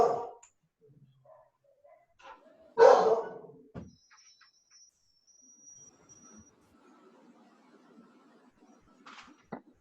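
A dog barks a few times in the background, one louder yelp standing out among faint sporadic sounds in an otherwise quiet room.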